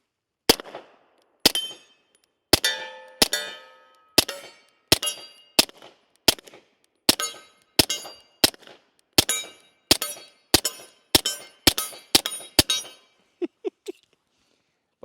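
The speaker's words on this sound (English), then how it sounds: "just to be able to hear that steel hit, or that bullet hit that steel" Subsonic rounds from a Beretta 92X pistol strike steel targets in a rapid string of about twenty sharp, ringing metallic hits, each a crisp clang with a short ringing decay, fired at a steady, slightly uneven pace with no talking.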